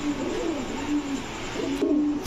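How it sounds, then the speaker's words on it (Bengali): Silver Babra pigeons coo close by in soft, repeated low warbling calls over a faint steady background hum. "কবুতর গুলা দেখেন, অস্থির লেভেলের কবুতর, দেখাই শান্তি লাগবে।"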